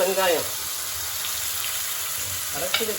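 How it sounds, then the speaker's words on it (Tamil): Onions frying in a pan of oil with curry leaves, cooked village style for an okra stir-fry, crackle as a steady close sizzle throughout, with brief voice-like harmonic sounds near the start and the end. "வெங்காயம் என்னன்னா இதை இப்படி வறுக்கணும்"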